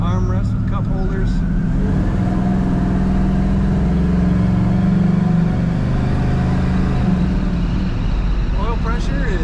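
A 1968 Chevrolet Chevelle Malibu with column-shift automatic gets up to speed after a roundabout, its engine a loud steady droning hum from inside the cabin, with someone talking over it.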